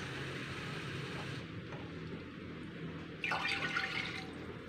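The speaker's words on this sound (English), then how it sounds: "dito natin mag-drain" Water pours off washed rice as it drains in a kitchen, a soft steady splash that grows louder and brighter toward the end.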